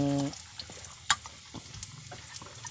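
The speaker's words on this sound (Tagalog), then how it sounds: "Bali halu-haluin lang muna mga idol para ma golden brown" Patola being stirred and sautéed in a frying pan, with a steady soft sizzle under irregular scraping and clacking strokes of the utensil, one sharper clank standing out.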